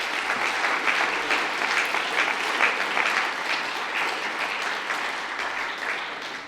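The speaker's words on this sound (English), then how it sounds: "A round of applause for the Kapahaka Merits," An audience at the Wellington College Arts Awards 2021 applauds Kapa Haka merit students with steady, dense clapping from a crowd that holds evenly throughout, with no voices over it.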